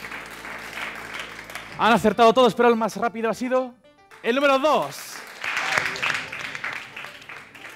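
A TV quiz show studio audience applauds the contestants, the clapping heard at the start and again after a presenter speaks over a brief gap, moderately loud and fairly near.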